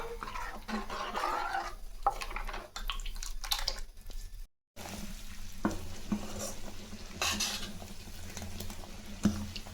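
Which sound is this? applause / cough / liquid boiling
liquid boiling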